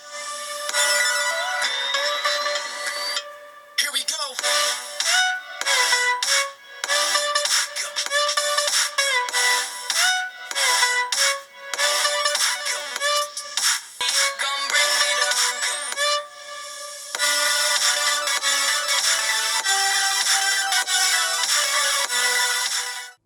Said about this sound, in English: As for audio, it comes with a single speaker at the top and it is pretty good.